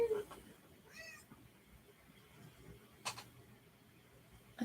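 A house cat gives a short, faint meow in a quiet indoor room, a single brief call near the start followed by soft background noise and a light creak or click.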